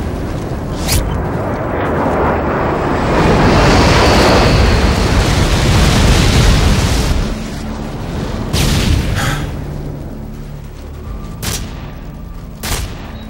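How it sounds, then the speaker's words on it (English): Airstrike explosions in the video game Modern Warfare 2 on the Derail map, a heavy rolling series of booms building to a sustained roar, then fading into scattered gunfire and sharp reports. "Friendly airstrike on the way."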